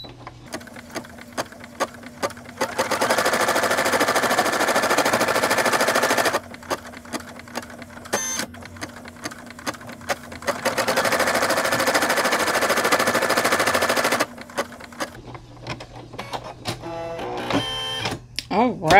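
An embroidery machine stitches an applique tack-down in two long stretches of fast, even mechanical buzzing, with a quieter hum and clicks in between, while a person talks intermittently.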